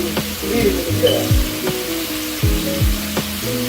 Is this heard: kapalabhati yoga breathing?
no